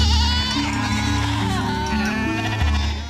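Goats bleat repeatedly in a Hamar pastoral village in Ethiopia, close and loud, several animals calling over one another.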